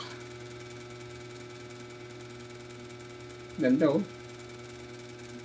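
A small four-stroke mini engine runs on a test stand, producing a steady, even mechanical hum throughout, with a short spoken exclamation briefly over it.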